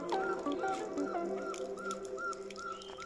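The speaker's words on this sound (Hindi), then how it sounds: "Actually it's a bird." A bird calls repeatedly during an evening walk in a village, a series of short honking, goose-like notes in an uneven rhythm, fairly close and moderately loud over faint background.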